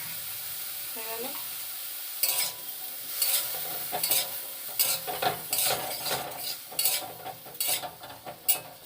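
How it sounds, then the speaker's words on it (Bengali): Potato pieces fry in hot oil in a pan while a spatula stirs them, sizzling under a series of scraping strokes that begin after a quiet opening. "আলুগুলো দিয়ে দিলাম। আলুগুলো একটু হালকা ভাজা ভাজা হবে।"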